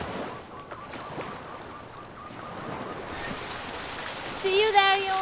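Waves break on the steep cliff coast of Madeira, a soft continuous wash of surf with wind over the microphone. A faint tonal whistle or chirp enters near the end.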